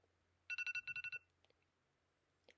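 A phone ringtone plays a quick burst of bright repeated electronic tones, about eight rapid beeps in two short groups, fairly loud and alone, followed by a couple of faint clicks.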